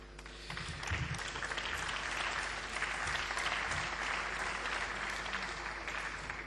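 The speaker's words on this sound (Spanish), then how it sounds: "Agradezco sus aplausos" Sustained audience applause following a political speech, dense clapping that swells in and holds steady at moderate distance, with a low constant hum beneath.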